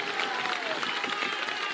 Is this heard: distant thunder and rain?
no